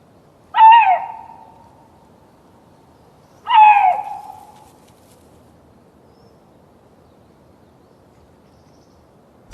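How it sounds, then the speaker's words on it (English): A male lynx calls during mating season: two loud, drawn-out wailing cries about three seconds apart, each falling in pitch, alone in a quiet outdoor setting. "In this season, people say the lynx is singing."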